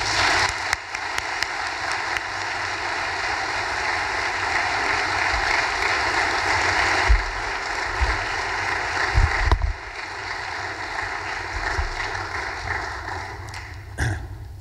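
A lecture audience at Washington and Lee applauds to welcome the speaker, a dense, sustained clapping that fills the hall for over ten seconds and then thins toward the end.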